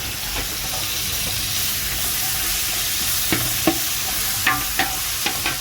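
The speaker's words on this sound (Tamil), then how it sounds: "தக்காளி கொஞ்சம் வதக்கட்டும் ஒரு அஞ்சு நிமிஷம்" Tomatoes sautéing in a pan for Mayavaram-style thalcha, a loud continuous sizzle and hiss with spoon scrapes and clinks growing more frequent toward the end, no voices.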